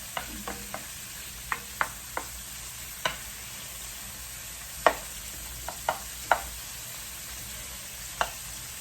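Bacon frying crisp in a pan is stirred now and then, with sparse scraping clicks of the utensil over a steady, soft sizzle.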